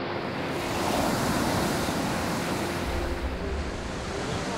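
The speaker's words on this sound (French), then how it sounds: "des vagues de 3 mètres déferlent sur la côte" Three-metre waves crash onto the French coast in a storm driven by 160 km/h winds, a loud, continuous roar of surf and wind noise filling the whole stretch without pause.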